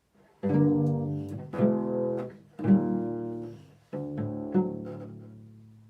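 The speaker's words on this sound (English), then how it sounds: "a harmonic progression that's known as the Andalusian cadence or Andalusian mode" A bowed cello plays an Andalusian cadence, four sustained chords in a descending progression, each entering with a firm stroke, moderately loud and unaccompanied.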